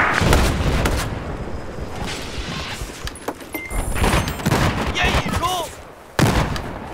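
Artillery fire and gunfire in Battlefield 4 on the Lancang Dam map, with repeated booms, bursts and shots in a busy battlefield mix.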